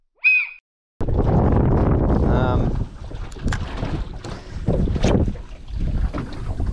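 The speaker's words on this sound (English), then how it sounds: "Well, she's windy as" Strong wind buffets a fishing boat on Lake Barambah, a loud rushing roar against the microphone that follows a brief bird call, with gusts rising and easing throughout.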